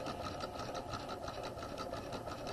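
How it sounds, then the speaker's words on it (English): Sewing machine running steadily, stitching a seam around the waistline of a garment with a facing; a continuous close, even mechanical whir with no talking. "And then we're going to sew around the waist,"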